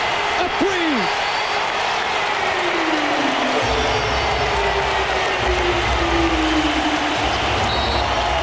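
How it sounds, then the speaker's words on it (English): A packed Miami Heat basketball arena crowd roars after a last-second three-pointer in a 2004 playoff game against the Hornets, a loud sustained wall of cheering with commentators talking over it. "the crowd erupts"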